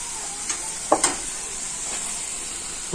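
Food frying on a gas stove in a home kitchen gives a steady close hiss, broken by a few brief stirring scrapes and clinks near the one-second mark, with no talking.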